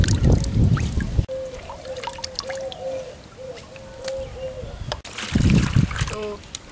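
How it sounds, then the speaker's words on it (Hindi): Water is squeezed by hand out of pieces of petha, ash gourd for the Agra sweet, into another vessel, with splashing and dribbling bursts at the start and end and a quieter stretch between, where a short tone repeats. "तो इसी तरह से हम सारे पानी निचोड़ कर रख लेते हैं।"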